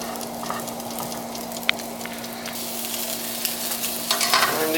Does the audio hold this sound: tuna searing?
yes